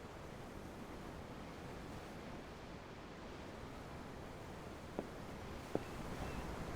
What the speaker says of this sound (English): The ocean? Yeah. The waves.